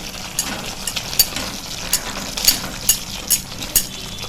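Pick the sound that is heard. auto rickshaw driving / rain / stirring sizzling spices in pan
stirring sizzling spices in pan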